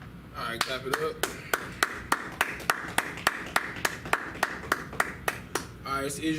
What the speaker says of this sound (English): Alright, clap it up.